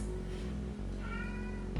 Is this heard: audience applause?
no